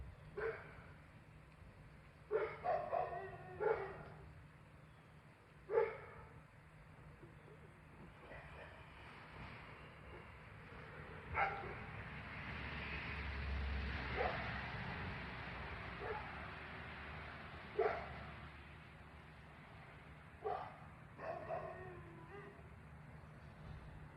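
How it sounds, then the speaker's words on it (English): Several dogs barking and yipping outdoors in bursts over about twenty-four seconds, fairly distant and faint, with road paving work nearby and a low rumble and passing traffic noise underneath. "There's people paving the road, so the dogs are saying hi."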